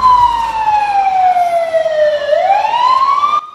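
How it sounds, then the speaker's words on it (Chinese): A fire engine siren wails loudly and steadily, sweeping down in pitch and then rising again, as the truck arrives at a blaze in a metal-roofed shrine building spreading to a warehouse. It plays alone with no voices. "消防车迅速抵达火警现场"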